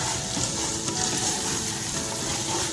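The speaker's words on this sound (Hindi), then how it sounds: "थोड़ा सा पानी ऐड करेंगे ताकि हमारा मसाला नीचे से जले नहीं" Masala for a matar chicken pulao fries in a pan after a splash of water, giving off a constant, dense sizzle with faint stirring scrapes and no voices.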